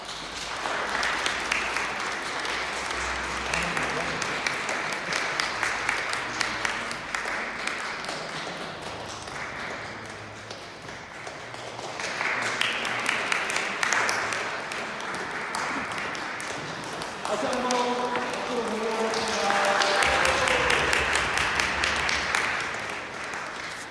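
A church congregation at a Sunday worship service applauds in long, uneven waves of clapping that rise and fall, with light ringing tones mixed in at moderate distance.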